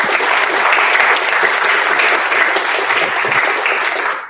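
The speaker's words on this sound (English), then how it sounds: "Let's just one more last round of applause" An audience at a live incubator event applauds steadily for over four seconds, a loud, even roar of many hands that fades out at the close.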